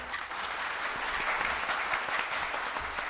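A studio audience claps in a dense, steady burst of applause at a television quiz show, filling the whole moment with even, close clatter and no voices on top.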